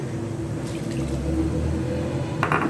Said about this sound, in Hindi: अब मैं इसमें गोश्त गलने तक का पानी इसमें शामिल कर दूंगी